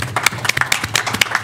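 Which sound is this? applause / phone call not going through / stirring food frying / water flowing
applause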